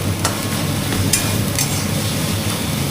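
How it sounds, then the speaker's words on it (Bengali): Loitta fish frying in hot oil, a steady crackling sizzle with occasional sharper pops, close and continuous without talk. "এটা ভাজা হচ্ছে,"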